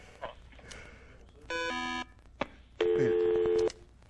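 Telephone keypad tones, a few quick separate beeps followed by two longer steady tone bursts, clear and close with no talking.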